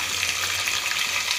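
Green chillies, dried red chillies, mustard seeds, urad dal and curry leaves sizzle in hot sesame oil in a pan for lemon rice, a steady close crackling hiss with no pauses.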